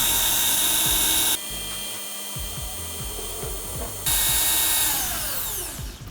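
Ryobi gun-type single-action polisher running on a pad with polish, a loud steady high-pitched whine that dips lower in the middle while the pad drags and rubs, then rises again and winds down.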